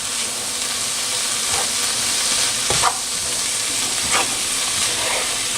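Tomato puree is stirred into vegetables frying in a pan for a vegetarian Cypriot moussaka, giving a loud continuous sizzle with a few scraping strokes of the spoon across the pan.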